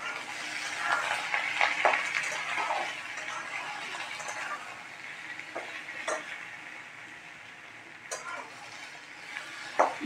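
Ridge gourd fries in a pan over a high gas flame, giving a steady close sizzle with occasional scrapes and knocks as the pieces are stirred.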